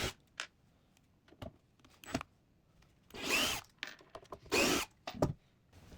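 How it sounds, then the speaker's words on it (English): A power driver whirs in two short bursts, backing out Phillips screws from the rear panel of a Boss Katana 50W guitar amp, with small clicks and handling knocks in between. "unscrew these two Phillips right there, and then the two on each side on the back here"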